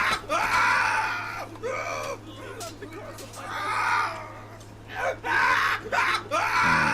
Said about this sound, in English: That motherfucker's screaming, dude